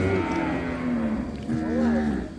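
Water buffalo at a livestock market giving two long, low moos, close and loud over steady crowd and market background noise.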